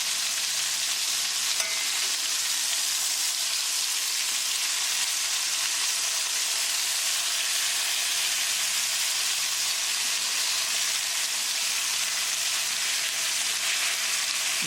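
Chicken sizzles and fries steadily in a pan on medium gas right after being flipped, a constant bright hiss of hot oil that stays even and close for the whole stretch, with no voices.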